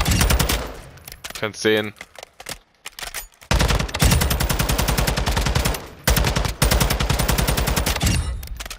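Rapid automatic assault rifle fire in Modern Warfare 2 rattles out in long loud bursts separated by brief pauses, with a short stretch of someone speaking between bursts.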